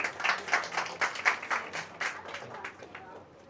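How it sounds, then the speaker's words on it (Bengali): An audience at the Saad Chinese Academy grand meetup claps for a guest. The claps land in quick, fairly even pulses, are moderately distant, and gradually fade away. "আর আবারও ওনার জন্য বড় একটা হাততালি।"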